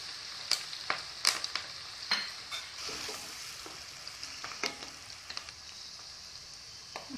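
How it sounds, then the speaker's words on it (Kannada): Onions and curry leaves crackle and sizzle in a pan for vangi bath, a continuous hiss punctuated by sharp pops and spatters, close and moderately loud without speech. "ಈರುಳ್ಳಿ ಹಾಕೋಣ. ಕರಿಬೇವಿನ ಸೊಪ್ಪು ಹಾಕ್ತೀನಿ."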